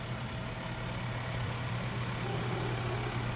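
A small car in a town scarecrow parade rolls past with a steady low engine hum and idle drone under a wash of outdoor crowd noise.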